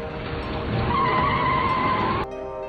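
A car pulls up in front of a shop in a film robbery scene, tires squealing loudly as it skids to a stop over roughly two seconds, the screech rising then cutting off abruptly into a lower engine rumble.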